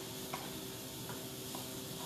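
Mushrooms go into a pan of browned onions for a barley risotto and sauté with a constant soft sizzle and hiss, plus a few faint clicks and stirs, heard up close with no talking.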